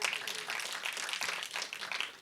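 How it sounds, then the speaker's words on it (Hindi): Applause from an audience at a Bollywood film trailer launch for Son of Sardaar 2, honoring actor Sharad Saxena: steady, dense clapping from a crowd, moderately distant, continuing evenly through the moment without talk. "शरद सक्सेना साहब के लिए एक बार तालियां मारिए"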